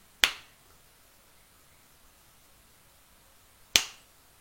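Two crisp, isolated finger snaps, about three and a half seconds apart, ring out sharp and close in an otherwise quiet room.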